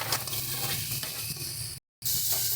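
Fried potatoes and bori hitting a tomato masala in a pan sizzle in a steady broadband hiss, close and moderately loud, with a brief dropout near the end before the frying resumes.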